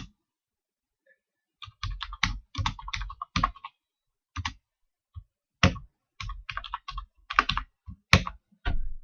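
Bursts of clicky computer keyboard typing, quick clusters of keystrokes separated by short pauses, close and fairly crisp in a quiet room.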